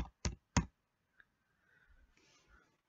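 A few sharp clicks on a keyboard, two close together at the start and then a faint tick, followed by quiet low rustling in an otherwise near-silent room.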